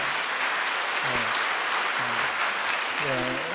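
Church congregation applauding together in a steady, dense wash of clapping that runs throughout, with a voice calling out briefly over it a few times.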